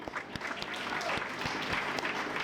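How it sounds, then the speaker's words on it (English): A crowd at a campaign launch rally for a South Carolina Secretary of State candidate claps for a group, a lively run of applause with a few loud individual hand claps standing out nearby. "Let's give them a hand clap."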